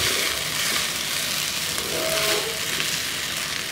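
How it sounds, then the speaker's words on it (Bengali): Chicken fried rice being stirred and folded in a hot pan, a steady close sizzle with soft scraping, no talk. "এখন আমি ভাতগুলো মিশিয়ে দিচ্ছি।"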